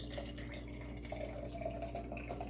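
Homemade vinegar liquid with fruit slowly poured into a jar, a soft steady trickle with small drips over a low background hum, quiet and close.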